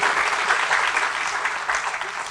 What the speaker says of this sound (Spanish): quien solicito un fuerte aplauso por esta oportunidad que nos brinda